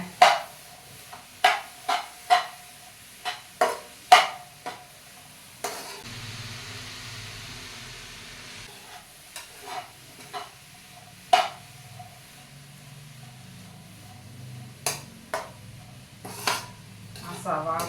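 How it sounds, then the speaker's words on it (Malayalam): A taro leaf stir-fry with onion is stirred in a pan, with a run of sharp metallic spoon scrapes and knocks against the pan in an uneven rhythm, a soft sizzle underneath, and a quieter stretch of frying in the middle. "അത് നന്നായി നമുക്കത് ഇളക്കിയിട്ടേ"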